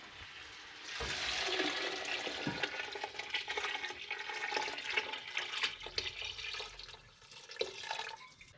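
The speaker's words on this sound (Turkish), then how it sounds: "Burada kemik suyum var. Bunu bir dökeyim bakalım." Bone broth pours from a container into a pot, a steady liquid splash and gurgle lasting several seconds with small drips and clinks near the end, heard up close without talking.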